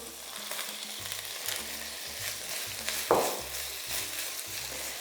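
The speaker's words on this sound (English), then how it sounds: "And I'm going to cook these for about 5 minutes until they're nice and brown." Pork and leek sausages sizzle steadily in a pot, a constant close frying hiss with a brief louder spatter partway through, and no voices.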